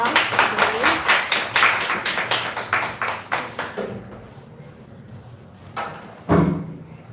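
A church congregation claps together to welcome a pastor at a unification prayer gathering in Jerusalem, with loud rhythmic clapping for about four seconds before it fades to scattered taps and a single louder thump.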